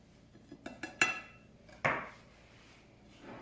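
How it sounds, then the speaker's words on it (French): A knife trimming the ends off ladyfinger biscuits around a chocolate charlotte gives a few sharp, close clicks and taps against a board or plate, spaced irregularly with quiet gaps between them. "je suis en train de finir de découper les bouts de doigts"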